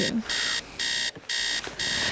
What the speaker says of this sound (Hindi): अलार्म बंद करो।